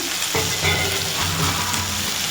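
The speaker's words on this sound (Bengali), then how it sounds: "এখন সবজিটা ভালো করে কষে গেছে।" Vegetables sauté in a pan for a Bengali fish curry, giving a short, close, steady sizzle with a couple of soft stirring scrapes and no talking.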